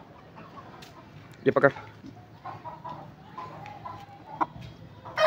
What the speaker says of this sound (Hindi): ये मुर्गी है, मुर्गी भी छोटी सी